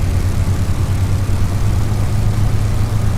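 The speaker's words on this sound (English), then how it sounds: "Just going to quickly run the engine up a bit just to see if I can hear that." A warbird's piston engine in Microsoft Flight Simulator, run up on the ground at Newcastle, gives a loud, continuous droning rumble with a steady low throb and broadband roar, alone without voices.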